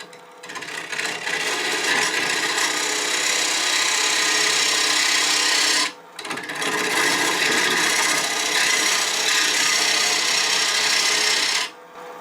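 A gouge takes big shavings from a wood bowl blank spinning on a lathe, cutting side grain down to a level below the pith: a steady, loud rasping scrape that stops twice briefly as the tool lifts, with no talk.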